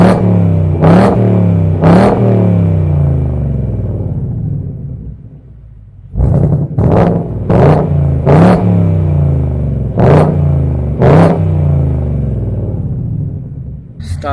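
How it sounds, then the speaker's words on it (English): A stock-exhaust 2018-2020 Ford Mustang GT 5.0 with a six-speed manual idles with a deep rumble, then blips its throttle in a series of sharp, loud revs, two early and several more in quick succession after a brief lull. "Stock exhaust setup sounds really good."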